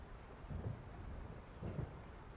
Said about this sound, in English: In a city of endless night and constant rain.